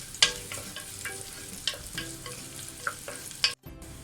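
Coconut pieces sauté in a pan while being stirred, a steady low sizzle broken by scraping stirs and a few sharp clinks of the spoon against the pan, close and moderately quiet, with no talking.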